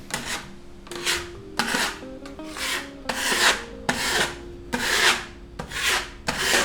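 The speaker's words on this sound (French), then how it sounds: "je vais donc placer mon enduit. Vous voyez, j'en ai pris une petite quantité ici et commencer à boucher grossièrement" Repeated scraping strokes of a putty knife spreading filler paste into holes in a kitchen wall, about ten rhythmic rasping passes, close and clear with no voices.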